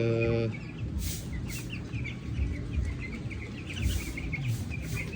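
A flock of 14-day-old broiler chickens on a farm cheeps and clucks in a busy overlapping chorus, with a short, louder harmonic call at the start.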